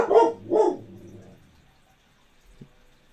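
Dogs indoors give two loud, close barks in quick succession, after which the sound trails off into near silence with one small knock near the end.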